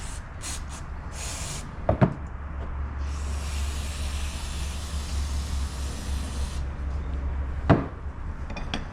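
Cleaner sprays onto brake parts in a workshop in one long steady hiss of about three and a half seconds, with a few short bursts before it and clanks of parts and tools around it.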